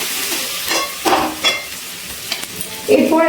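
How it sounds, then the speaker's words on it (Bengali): Ginger garlic paste stir-frying for a Bengali jackfruit and prawn curry, a steady sizzle broken by several scraping stirs of a spatula against the pan, close and clear with no voices. "আদা রসুন বাটাটা ভালো করে কষিয়ে নিয়েছি।"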